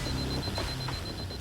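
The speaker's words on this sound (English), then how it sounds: "an alarm inside the vault is triggered" A vault alarm sounds, a steady high electronic tone pulsing in short repeated beeps over a dense low hum, fairly faint and unbroken for the short moment.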